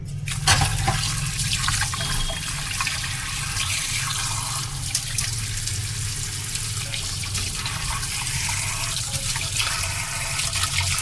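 Fish being rinsed under running water, village style, with a steady splashing tap flow running continuously and close, no talk.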